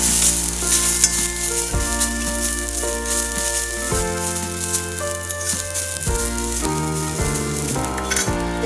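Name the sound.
grated coconut being sautéed in a pan for modak filling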